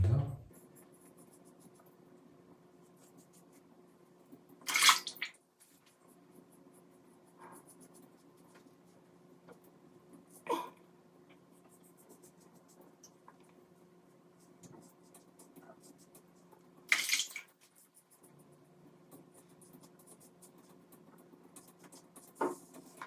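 A Rockwell T2 stainless steel safety razor scrapes across lathered skin during a second shaving pass, with Tabac shaving soap, giving soft rasping strokes at long, uneven intervals over a faint, steady background hum.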